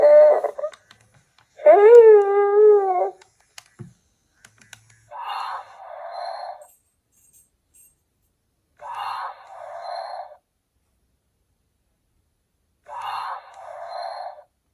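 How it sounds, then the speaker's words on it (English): Three slow, soft snoring sounds from a toy of The Child repeat at even intervals, each a breathy rasp followed by silence, after a brief electronic whine and a few clicks. "There's the snoring."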